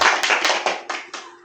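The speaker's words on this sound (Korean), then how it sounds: "박수." A brief burst of clapping at a church gathering: six or so distinct, fairly loud claps in a slowing rhythm, close by, with no voices over them.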